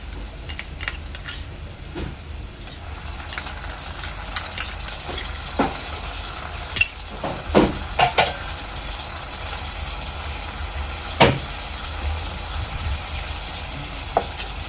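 Ginger-garlic paste stirred into reddened frying onions in a pan for egg biryani, with a soft sizzle under repeated scraping and clinking of a spoon against metal, irregular taps scattered throughout, close and moderately quiet.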